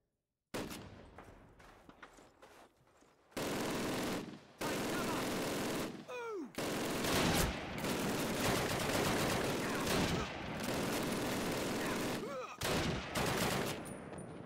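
Rapid bursts of MG42 machine-gun fire in the Call of Duty game, loud and sustained with short pauses between volleys, mixed with other gunfire and battle noise.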